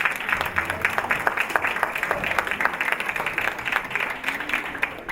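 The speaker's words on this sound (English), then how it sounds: "Let's give our senator another round of applause" A luncheon crowd at a Black History Month celebration gives a senator another round of applause, with sustained, even clapping throughout and no break.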